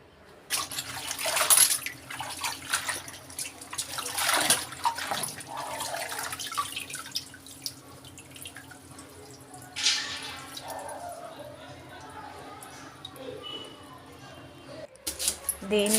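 A bunch of amaranth leaves is washed by hand in water, giving intermittent splashes, drips and swishes in short bursts with pauses between, while a person talks.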